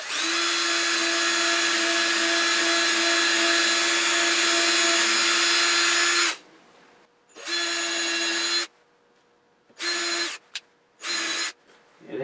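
A power drill set to drill torque drives screws in loud, steady, high whining runs: one long burst of about six seconds, then several shorter stop-start bursts with brief silences between.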